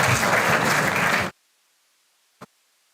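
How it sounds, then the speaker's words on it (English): A conference audience at an environment summit applauds the session chairs, a dense, loud burst of many hands clapping that stops abruptly, followed by near silence and one faint thump. "May I please request all the audience to please give a huge round of applause for our session"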